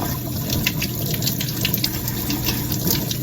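Sweet potatoes being washed by hand under a steadily running kitchen tap, a continuous close rush of water with small splashing variations as the tubers are rubbed and turned, no talking.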